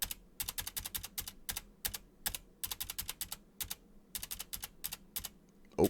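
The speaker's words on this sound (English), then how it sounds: "So I use the space bar to pop bubbles rather than clicking the mouse." Keys on a computer keyboard, including the space bar used to pop bubbles in a JavaScript browser game, tap out rapid, close bursts of keystrokes with brief pauses between clusters, with no one talking.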